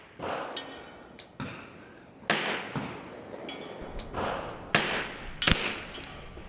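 A Bergara B14R rifle fired at a target on an outdoor range, several loud sharp cracks spaced a second or two apart, each followed by a short rolling echo over steady background hiss.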